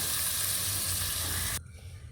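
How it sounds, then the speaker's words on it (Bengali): Potol (pointed gourd) and a splash of water go into a frying rohu fish curry, giving a loud, steady broadband sizzle that cuts off abruptly near the end, leaving a quiet murmur. "মাছগুলো দেওয়ার পর এই পটলটা দিচ্ছি। এবার একটু জল দিয়ে দিচ্ছি।"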